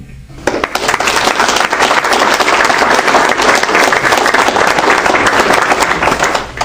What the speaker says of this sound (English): I think you deserve a round of applause from everyone.